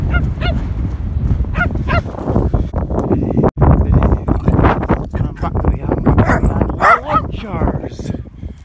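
A dog busy with a ball gives repeated loud barks and honking yelps, mixed with voices talking near the microphone.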